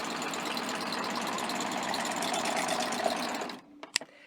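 A serger sewing machine stitches along napkin edges in a steady, fast mechanical whir for about three and a half seconds, then stops, leaving a few faint clicks and taps.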